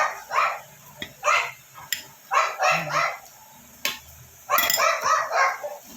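Dogs bark repeatedly in short bursts, fairly close and loud, with brief gaps between clusters of yips and barks.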